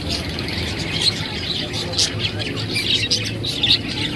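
Small birds chirp and tweet in quick, scattered bursts at a bird market with parrots and pigeons, under steady background murmur and someone talking.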